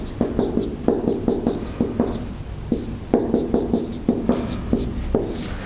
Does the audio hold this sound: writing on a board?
yes